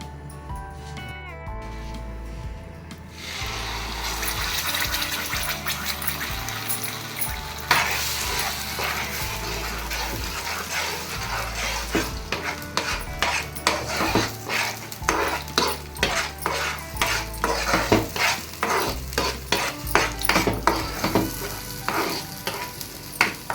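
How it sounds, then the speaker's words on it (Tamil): Loud sizzling and crackling of masala frying in hot oil, with a spoon stirring and scraping the pan in an irregular rhythm, no voices. "கொஞ்சம் எண்ணெய் சூடு ஏறினதும் இந்த மசாலா அதிலே சேர்த்துக்கலாம்."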